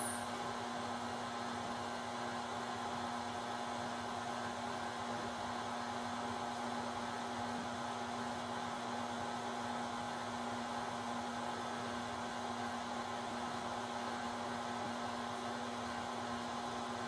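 An electric mixer whirs steadily, beating eggs one at a time into sour cream pound cake batter, a constant close, even drone with no breaks.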